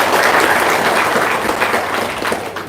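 Audience clapping for a visiting group leader at an Indonesian business gathering, a dense burst of many hands applauding loudly and evenly, tapering slightly toward the end.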